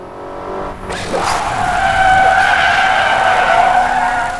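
Car tires skid under hard braking in Crash Time 5: a sharp screech begins about a second in and holds loud and steady to the end, over a low engine rumble, with no voices.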